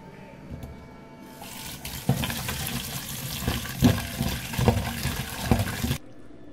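Tap water runs steadily over freshly cut mourala fish being rinsed in a kitchen sink, beginning after a quiet moment and stopping abruptly near the end, with soft splashes and knocks under the flow.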